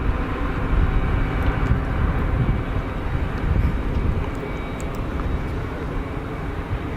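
A KLM airliner with Pratt & Whitney engines at Geneva Airport gives off a loud, sustained, deep engine roar that stays steady and close throughout, with a faint high whine above the rumble.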